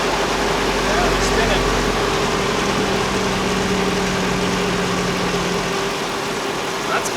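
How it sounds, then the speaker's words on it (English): A Mercedes-AMG engine idles with its electric cooling fan running, giving a steady, close whirring drone and low hum that holds evenly throughout. "let's see if the fan kicks on"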